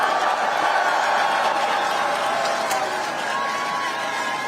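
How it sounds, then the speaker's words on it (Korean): Large crowd at an outdoor political rally in Yongin claps and cheers steadily, a dense wash of applause and voices filling the whole stretch without pause. "우리 네 분 국회의원 앞으로 더 잘하라고 한 번만 더 박수 부탁드립니다."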